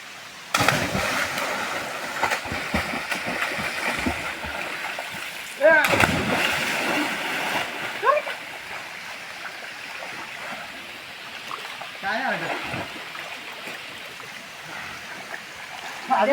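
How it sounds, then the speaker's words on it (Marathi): Water splashes at a village river as people jump in from above, with several sharp splashes among a continuous flowing-water background and voices talking and calling out. "हा टाक वरतून उड्या घालतोय."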